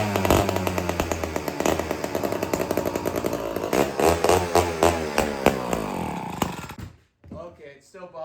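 A chainsaw engine runs with its chain bar removed, revving in rough bursts and bogging down repeatedly, loud and near, then cutting out abruptly near the end.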